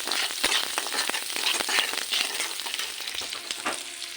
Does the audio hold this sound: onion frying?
yes